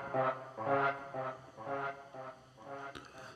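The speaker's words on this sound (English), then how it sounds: "In my pack it's called Classic Creeper, and it sounds something like this." A drum and bass tech-step pad stab patch called Classic Creeper, made in the Vital synth, plays a rhythmic sequence of rich, buzzy chord stabs that pulse evenly at a moderate, fairly quiet level and end with a short click.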